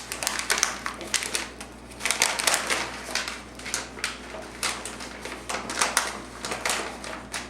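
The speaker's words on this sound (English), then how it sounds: "to probably crunch the paper down" Sheet of paper crunched and crumpled by hand while shaping the base of a tea hat, a dense run of close crackling rustles lasting several seconds with no talk.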